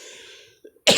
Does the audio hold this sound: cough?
yes